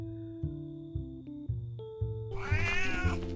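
A cat meows in the Mindcop video game on Switch, a series of short tonal meows over a steady synth music bed, ending in a louder, drawn-out caterwaul.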